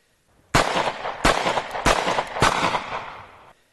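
Four sharp shots from a Colefire Magnum Sterling MK4 gun, evenly spaced about every half second to second, each burst followed by a sustained hiss before cutting off, close and fairly loud with no talk.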